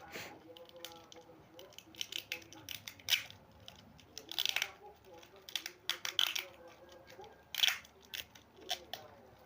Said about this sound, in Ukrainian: А зараз поки що я мотаю наші акумулятори ось таким чином. Скотчем.